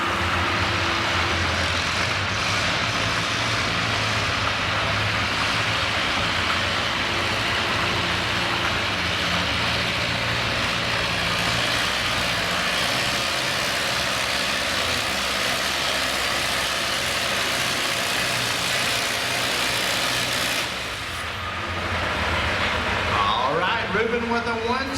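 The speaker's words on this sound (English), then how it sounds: "Good, strong running tractor here." The engine of a pulling tractor roars steadily and loudly through a winter tractor pull in Chatham, Virginia, a dense sustained drone that eases briefly near the end before surging again.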